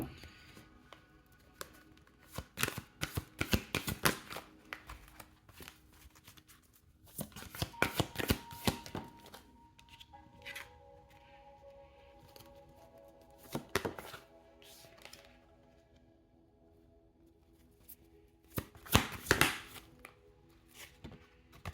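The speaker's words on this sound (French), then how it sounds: "Je vous tire quelques cartes et je vous explique ce que je reçois groupe 1." Tarot cards being shuffled and drawn by hand, with several bursts of riffling and flicking cards between quieter pauses, close and crisp, and no talking.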